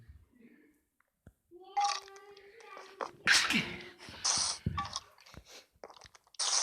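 A short sneeze breaks out close by amid scattered rustling and mouth noises, with quiet Turkish talk around it in an indoor setting.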